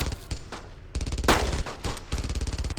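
Bursts of automatic gunfire from a World War II shooter, Brothers in Arms: Earned in Blood, crackle close and loud in rapid repeated volleys with a sharper blast near the middle.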